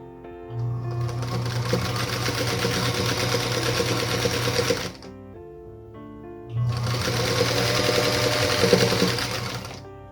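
A sewing machine stitches squares onto a quilt block in two sustained runs of rapid, even needle hum, separated by a short pause.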